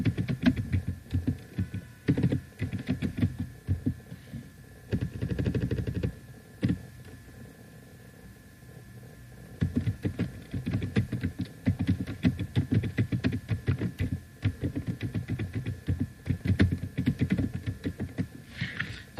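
Steady rapid keystrokes of someone typing code on a computer keyboard, close up and fairly loud, with a brief pause around the middle and a faint hum underneath.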